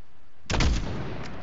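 A single heavy gunshot in Call of Duty: Modern Warfare cracks out of near silence, loud and close, followed by a rumbling reverberant tail.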